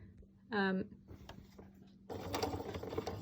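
A sewing machine stitching a fabric mask starts with a short whirring run, then after a quiet gap a louder mechanical rattle of stitching fills the last second, with a person speaking alongside.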